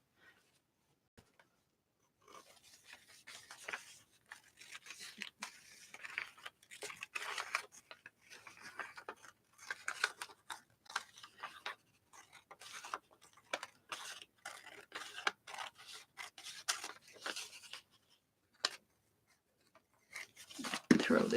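Scissors snip through the border of a cutwork embroidery fabric piece. Short, crisp cuts come in irregular clusters after a quiet start, close to the listener and fairly soft, ending with a louder handling rustle.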